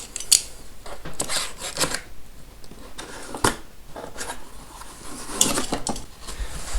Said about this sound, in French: On va tout de suite l'ouvrir avec le meilleur cutter.